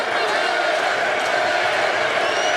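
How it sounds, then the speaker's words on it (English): A hometown crowd at a Bellator MMA championship fight roars steadily through the fifth and final round, a dense, continuous wall of cheering, with a commentator's voice talking over it. "this crowd trying to fire up its hometown champion"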